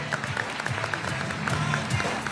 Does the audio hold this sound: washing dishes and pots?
no